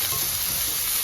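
Chopped onion and capsicum sauté in a hot pan with a steady, close sizzle and faint stirring, with no voices over it.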